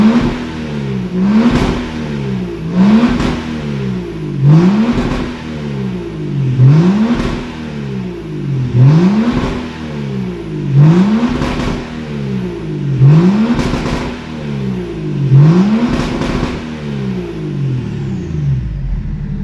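A BMW E36 with a swapped M57 diesel engine revs repeatedly to the limiter, about nine loud rising rev sweeps in a steady rhythm, each cut off sharply and falling back, close by with no talk.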